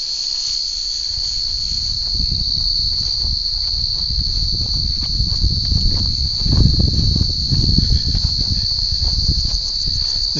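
Crickets chirp in a constant, loud high trill over a rustling outdoor background at a rural homestead near Wawanesa, Manitoba, with soft low rumbles drifting through.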